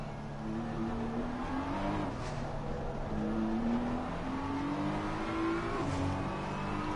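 GT race car in the ACC racing game at Suzuka downshifting through the gears after the 130R curb, engine pitch stepping up and down in a steady loud drone with no talk over it.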